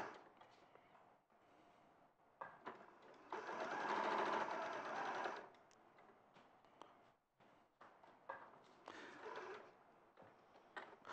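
Sewing machine stitching a bag runs in a loud steady burst of about three seconds mid-clip, with quieter rustling and handling sounds of fabric before and after.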